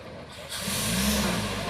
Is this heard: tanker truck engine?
yes